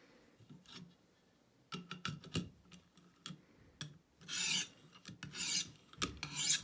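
Tip of a Fort Bridger mountain man knife being sharpened, short rasping strokes of steel on a stone in uneven bursts, close and fairly quiet, with brief gaps between passes.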